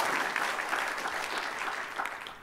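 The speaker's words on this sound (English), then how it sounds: "Give Missy and Sean a round of applause for 10 years." An audience at a keynote at Affiliate Summit East 2013 claps, a dense burst of applause that slowly thins, then swells again at the very end.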